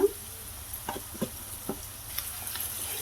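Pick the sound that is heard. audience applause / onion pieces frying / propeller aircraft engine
onion pieces frying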